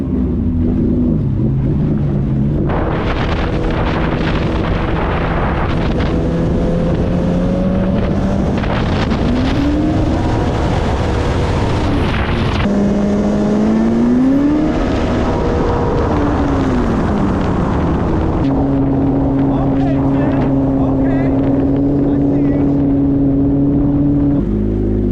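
A turbocharged Yamaha offshore jet ski accelerates hard on water, its engine droning loud and steady with rising and falling pitch sweeps as it revs, heavy wind buffeting the microphone throughout.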